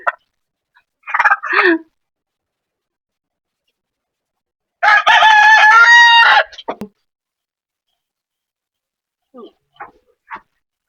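A White Leghorn rooster crows once loudly and close, a long harmonic call, with shorter clucks and calls before it and faint chirps afterward.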